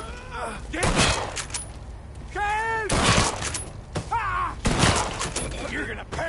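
Gunfire rattles through a shootout in the Mafia 3 video game, sharp repeated shots in bursts mixed with shouting voices and other game sounds.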